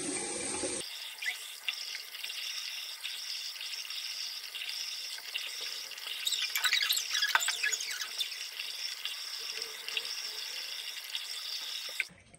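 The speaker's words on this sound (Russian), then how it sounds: "А сейчас мы будем с вами смывать. Вот моя любимая мочалка. И все, что высохло, я смою." Running water from a tap splashes steadily into a sink as a washcloth rinses a dried grapefruit face mask off skin, with soft rubbing and swishing that swells midway before the flow cuts off.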